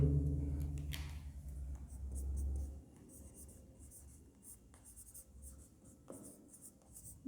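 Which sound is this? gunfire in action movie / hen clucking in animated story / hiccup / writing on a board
writing on a board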